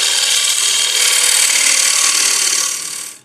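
Cutting tool riding the bevel as it shears through wood, a loud continuous hissing rasp lasting a few seconds before tapering off.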